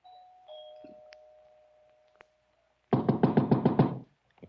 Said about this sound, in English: punched at the doorbell, and heard it ring inside.